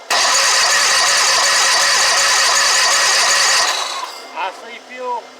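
Starter cranking an Exmark mower engine, a loud, continuous whirring grind that runs for several seconds before cutting off abruptly, followed by brief faint sounds.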